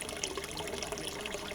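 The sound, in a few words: trickling water on an art farm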